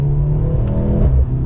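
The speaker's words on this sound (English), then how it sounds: "That 4-cylinder sounds really good too, and you can feel down low that hybrid power" A 2023 Mercedes-Benz C43 AMG 4MATIC with a hybrid four-cylinder engine pulls away under acceleration, its steady mid-pitched engine drone rising slightly from inside the cabin, loud and continuous with no talking.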